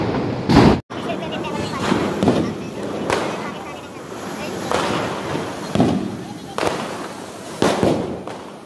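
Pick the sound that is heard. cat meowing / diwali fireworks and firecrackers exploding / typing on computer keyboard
diwali fireworks and firecrackers exploding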